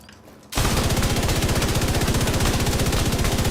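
The Iron Lung exotic LMG firing in The Division 2 shooter game, a loud, fast, continuous stream of rounds right after a short quiet lead-in, unbroken to the end.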